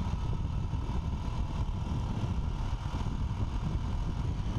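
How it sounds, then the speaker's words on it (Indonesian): A motorcycle engine being run in, holding a steady low drone with a constant hum and no change in revs, moderately close and alone. "Nak running in motor."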